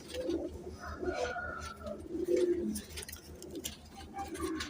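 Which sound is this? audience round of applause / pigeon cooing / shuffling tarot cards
pigeon cooing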